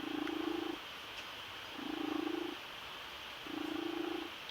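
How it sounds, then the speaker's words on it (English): A cat purrs in three slow, even cycles, each steady rumbling stretch followed by a short quiet gap, close to the microphone and fairly soft against a faint background hiss. "My cat has an exquisite purr."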